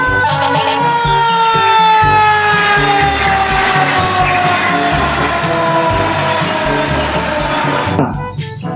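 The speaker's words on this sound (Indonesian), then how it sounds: "Yang ini ada mobil pemadam kebakaran." A loud electronic toy fire truck siren wails continuously with a descending tone and rumbling motor noise, cutting off abruptly near the end.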